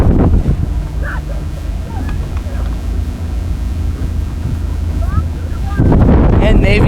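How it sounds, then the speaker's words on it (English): Steady wind buffeting a microphone outdoors at a lightweight men's rowing race, a continuous low rumble that grows louder near the end, with faint voices underneath. "The wind continues to swirl."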